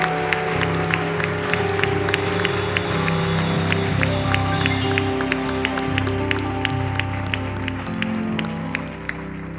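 A church congregation applauds and cheers throughout, with dense, steady clapping layered over sustained music and crowd noise.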